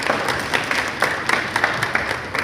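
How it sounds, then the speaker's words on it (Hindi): A live crowd claps heartily at a Bhojpuri film event, a dense run of applause with individual claps standing out, steady and close throughout. "इनके लिए एक जोरदार ताली हो जाए भैया"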